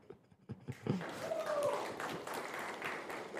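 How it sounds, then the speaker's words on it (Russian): An audience applauds at a conference talk on releasing Android apps, a soft, distant patter of clapping that swells after a few faint taps and continues steadily to the end. "Даня, аплодисменты."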